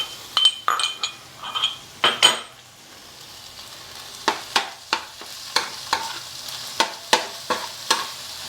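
Ginger and garlic frying in a pan for a Godavari small-fish curry, with close, repeated scraping stir strokes and clinks over a steady background sizzle, no talk.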